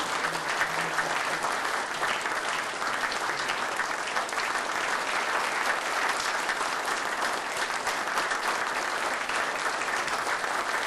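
An audience at an inauguration ceremony for an association's new president applauds at length, steady and even throughout.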